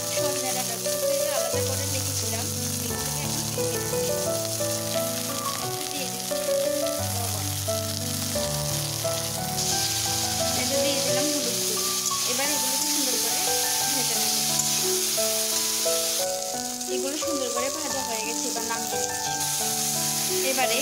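Vegetables for a village-style Bengali pachon fry in hot oil in a wok, giving a continuous crackling sizzle that runs steadily beneath background music for the whole stretch.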